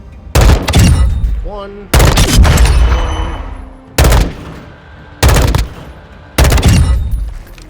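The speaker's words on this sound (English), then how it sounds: "now we're going to use 3-round bursts on the M16" An M16 rifle in Modern Warfare 2 firing three-round bursts: five loud, close bursts separated by short pauses, each with a sharp crack and a fading tail, and a brief voice between shots.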